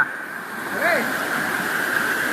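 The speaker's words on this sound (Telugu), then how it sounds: "ఇప్పుడు నేను మీకు చూపించేది వచ్చేసి వాటర్ ఫాల్ ఫ్రెండ్స్" Water tumbles at the Edu Bavulu waterfalls near Illandu, a steady, continuous rushing wash that runs unbroken through the whole moment with no talking.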